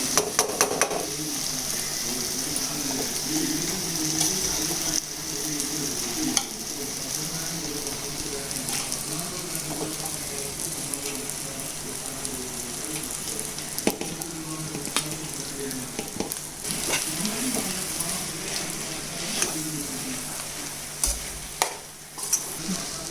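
Cooked rice stirred a little at a time into tomato masala in a hot pan, with a continuous gentle sizzle and frying crackle under repeated scraping and stirring strokes, close and steady throughout.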